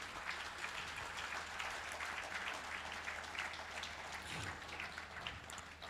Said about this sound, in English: So if we're going to put our hands together and applaud, let's do it with some hope and some enthusiasm this afternoon.